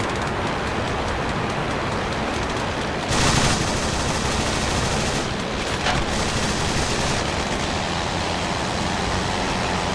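Sustained bursts of machine-gun fire from enemy World War I fighter planes in the flight sim Rise of Flight, loud rattling volleys that run nearly continuously with short gaps.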